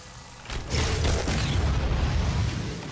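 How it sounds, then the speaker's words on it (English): A deep, booming explosion from the Doom video game as the player gets a burst of speed; it hits sharply and then rumbles on steadily for a couple of seconds. "that explosion sound is uh, me getting a burst of speed"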